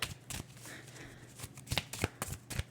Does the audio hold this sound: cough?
no